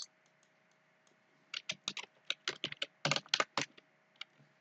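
Keys clicking on a computer keyboard as a password is typed into a Java login form: irregular clusters of crisp, close taps, some quick runs and pauses between them, quiet overall with no talk.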